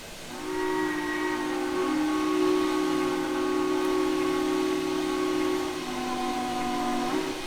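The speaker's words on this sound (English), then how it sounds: "it is a nice whistle. It does sound pretty decent." A steam locomotive whistle from a Willamette geared engine in the Trainz 2019 train simulator game sounds one long, deep, slightly screechy sustained blast, with a brief dip in pitch near the end.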